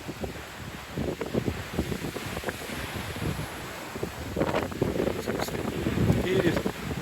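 Gusty wind buffets the microphone on Momo Beach in Panglao, Bohol, with surf washing steadily underneath; a person talks throughout over the roar.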